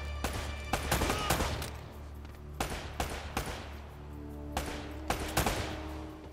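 Gunfire in the video game Uncharted, with several loud sharp shots and short bursts spread across the stretch over a low steady game hum, sounding close and irregular.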